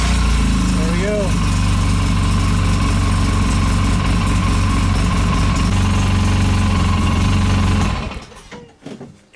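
A 2011 Polaris RZR 800 engine idling steadily after a starter swap, a loud, even mechanical drone with a brief whine early on, cutting off near the end.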